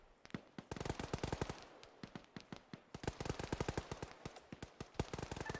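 A BTR armored vehicle's gun in Arma 3 fires rapid, loud bursts of machine-gun shots, sharp and evenly spaced with brief pauses between strings.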